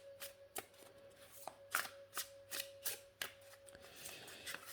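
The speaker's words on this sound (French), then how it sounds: "Bon, le jeu se mélange bien. Les cartes glissent bien, ça colle pas." A tarot deck shuffled close up, with a string of sharp riffling bursts arriving in an irregular rhythm, each brief slap of cards standing out against a quiet room.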